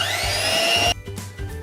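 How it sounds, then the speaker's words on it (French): An electric hand mixer beating eggs and sugar for matcha ice cream gives a loud, high, steady motor whine for about a second, then cuts off, leaving faint clatter behind. "à l'aide d'un batteur nous allons donc procéder au mélange"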